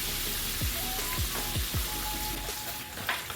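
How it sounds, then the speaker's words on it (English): Chicken wings fry in hot oil with a steady, close sizzle and crackle, broken by a few soft clicks and stirs of a chopstick. "I'm gonna let them fry."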